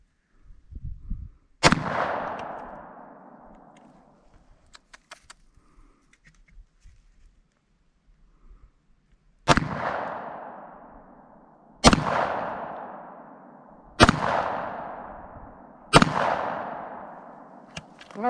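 Five sharp Glock pistol shots ring out at an outdoor range, one early and then four more spaced a couple of seconds apart, each loud crack followed by a fading echo.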